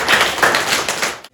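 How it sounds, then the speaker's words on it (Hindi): A crowd at a medical camp applauding its volunteers, a short burst of dense, bright clapping that cuts off abruptly after about a second. "आप सबके लिए तालियां।"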